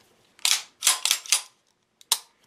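A pistol's barrel bushing and plug locking into place: a burst of crisp metallic clicks and snaps, three or four in quick succession, then a single sharp click after a pause, close and loud with no talking.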